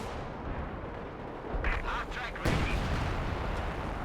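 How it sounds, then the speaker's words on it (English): Artillery barrage in a video game during a Round of 16 tournament match: a steady, dense low rumble of shelling, then one sharp, loud blast about halfway through, with faint voices in the background. "We have another left barrage."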